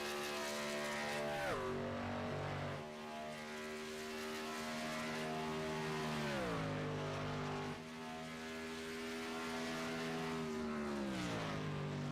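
A race car circles the track during an HTL Kansas 250 Challenger Series race, its engine droning steadily with smooth pitch drops as it shifts and passes, continuous and moderately distant.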